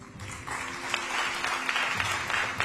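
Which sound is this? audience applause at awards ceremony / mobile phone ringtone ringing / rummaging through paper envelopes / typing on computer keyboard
audience applause at awards ceremony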